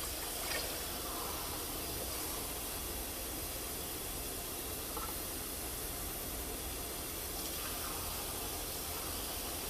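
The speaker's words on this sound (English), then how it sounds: "So I'm going to add my water now." Water pours steadily into a turkey chili pot, a continuous hissing splash lasting throughout, moderately loud and unbroken, with no voices.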